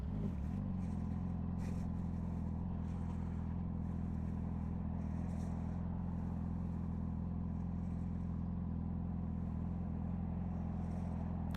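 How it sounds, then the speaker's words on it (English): Continuous low rumble of vehicle engines nearby, including a brush truck in town traffic, with intermittent clattering and whooshes of passing traffic. "There's a lot of traffic."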